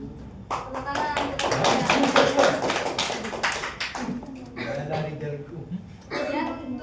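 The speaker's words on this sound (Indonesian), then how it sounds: "Tepuk tangan" Classroom applause after a student's presentation, with a burst of many hands clapping close by, mixed with chuckles and voices, then fading into scattered taps and talk.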